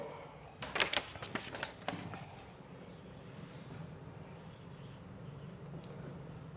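Pen or chalk writing out a matrix question in a lecture, a few quick scratchy strokes early on, then quiet room tone, faint and close.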